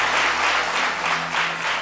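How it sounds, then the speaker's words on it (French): Crowd applauding for Bédié at a live event, a dense, continuous wash of clapping that swells and eases slightly over two seconds. "Vous n'avez qu'à applaudir pour Bédié, pour tout le travail qu'il a."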